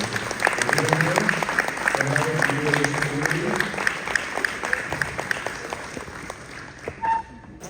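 An audience applauds steadily for several seconds, a dense patter of clapping that thins out and stops near the end.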